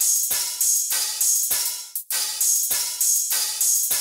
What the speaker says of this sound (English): Just some crashes, rides.